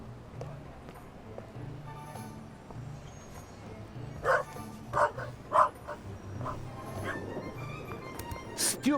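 Dog barking in The Raven Remastered, a few sharp, mid-distance barks and yips in short bursts over a quiet ambient backdrop, with talk in the scene.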